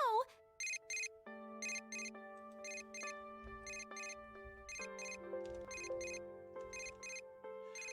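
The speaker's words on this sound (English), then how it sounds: "I feel a ringtone sound from my cell." A cell phone ringtone plays in the Persona 4 Dancing All Night video game, a clear electronic melody of repeated chiming bursts over sustained tones, with faint voice sounds underneath.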